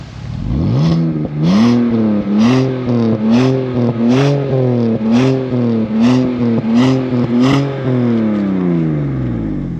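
A 2004 BMW 530i E60 with a 231 hp engine and manual gearbox revs repeatedly in a steady rhythm of rising and falling bursts, loud and close, with a deep exhaust roar that fades at the end.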